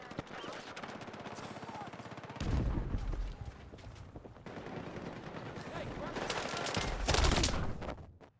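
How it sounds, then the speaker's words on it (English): Battlefield 6 gunfire: rapid automatic bursts and repeated shots, loud and close, in dense overlapping volleys with heavier booms mixed in and some voice underneath. "that guy was mag dumping this corner through smoke"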